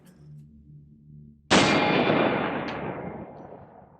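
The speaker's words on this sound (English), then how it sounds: "This time it's going to be coming out of a 16-inch barrel on this Ruger AR-15." A single loud gunshot from a Ruger AR-15 rifle with a 16-inch barrel cracks nearby after a quiet low hum, and its boom decays slowly over a couple of seconds.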